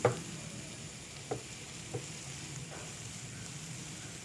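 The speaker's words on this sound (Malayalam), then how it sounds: "നമ്മുടെ ഇഞ്ചി പൊടിയായിട്ട് അരിഞ്ഞത്. പക്ഷെ അത് നമുക്ക് നന്നായിട്ടൊന്ന് സോട്ട് ചെയ്തെടുക്കാം." Finely chopped ginger sautéing in a pan for chickpea pulao, a faint low sizzle punctuated by a few light taps of a stirring spoon, quiet and close with no voices.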